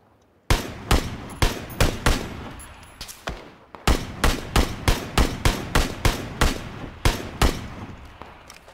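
Gunfire in PUBG cracks out in a quick run of sharp, loud shots, some spaced and some in rapid bursts, after a brief quiet start.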